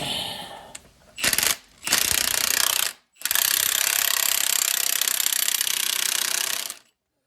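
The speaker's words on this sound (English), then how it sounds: "the nut takes a 7/8 inch wrench" Wrench working a nut on a bevel gear steering housing, loud rapid ratcheting bursts, one brief and then a long sustained run, close and harsh with short pauses between.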